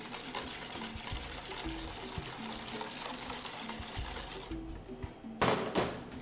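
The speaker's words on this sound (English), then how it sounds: "Going to take the hot cream and slowly pour it in" Hot cream poured slowly over a whisk into egg yolks for crème brûlée, a soft steady trickle with faint rhythmic thumps underneath, ending in a brief louder splash.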